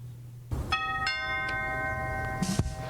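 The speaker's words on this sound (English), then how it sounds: "the doorbell ring threw me off" A doorbell chimes, ringing out a couple of sustained electronic tones that overlap and linger, fairly clear against a quiet room.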